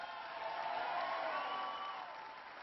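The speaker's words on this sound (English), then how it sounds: "Give Chris a big round of applause for that great introduction" Applause and cheering from a large audience at a Labor Day political speech in Milwaukee, a steady distant wash of clapping with some whoops, fairly faint.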